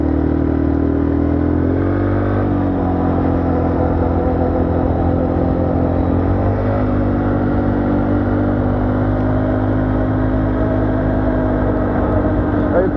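A 200cc quad bike engine drones steadily while riding on the road, a constant loud low rumble with slight shifts in pitch throughout, heard continuously from close by.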